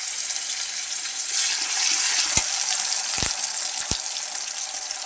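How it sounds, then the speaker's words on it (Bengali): Ginger-garlic paste frying with browned onions in a pan makes a steady close sizzle, punctuated by a few sharp knocks of a spoon stirring against the pan. "পেঁয়াজটা আমার ভাজা হয়ে গেছে, মানে আদা রসুন বাটা দিয়ে দিতেছি।"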